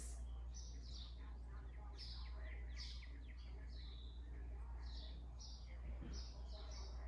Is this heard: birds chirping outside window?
yes